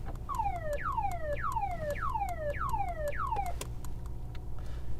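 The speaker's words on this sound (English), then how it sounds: "And there's also a siren sound." An electronic siren on an armored 2022 Mercedes S-Class Guard S680 V12 sweeps downward in repeated quick wails, about six falling tones in a steady rhythm, then stops.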